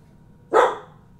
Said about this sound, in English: Got some crazy barking dogs here.